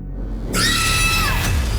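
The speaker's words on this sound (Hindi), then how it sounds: "जब आपको फ़ोन पर किसी के चीखने की आवाज़ सुनाई दी" A person screaming over a phone line in a crime drama, a loud sustained cry that starts suddenly and holds for over a second, thin and band-limited as if coming through a handset.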